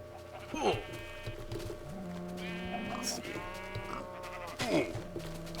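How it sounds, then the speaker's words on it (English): Sheep bleat repeatedly in the Minecraft video game on a farm, several wavering calls close by, some overlapping, over a soft steady background. "So you can see there's like 2 sheep with actual wool still in there somewhere"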